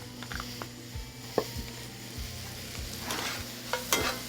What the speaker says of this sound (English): Give that a good toss. And just let it saute.